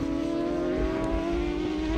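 A racing motorcycle, bike number 55 in a GP1000 qualifying session at Goiânia, holds a steady high-pitched engine note on the track, loud and continuous with no pauses and no voices.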